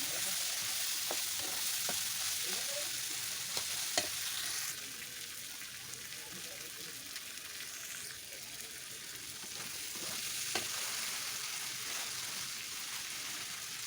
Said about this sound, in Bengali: দেখতে দেখতে আমার একেবারে সুন্দর করে কষানো কিন্তু হয়ে যাচ্ছে